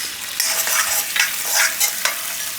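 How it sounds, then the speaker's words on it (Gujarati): Chili flakes hit hot homemade butter in a pan for corn Maggi, a loud, close sizzle and frying hiss with a few stirring scrapes, and no voices. "એની અંદર નાખી દઉં હું આ ચીલી ફ્લેક્સ"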